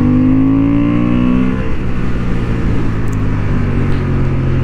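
A Honda Hornet 750 motorcycle, 92 horsepower and under 190 kilos, riding on a racing track: a loud, continuous engine drone with shifting pitch as it holds speed.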